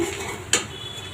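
A metal spoon scraping and clinking once against a cooking pot while ginger-garlic paste is stirred into fried spice paste for a mutton rezala, a single sharp scrape over a low steady background.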